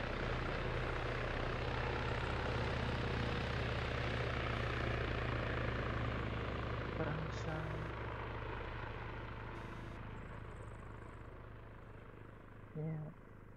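Propeller drone of a C-130 transport aircraft in Arma 3, a loud, steady engine roar that thins slightly as it passes on, with a few faint clicks and blips over it.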